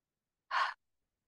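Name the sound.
deep breath during yoga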